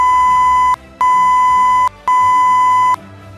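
An industrial safety alarm signalling a safe condition sounds three steady, loud electronic beep tones, each just under a second long and separated by brief gaps, piercing and alone.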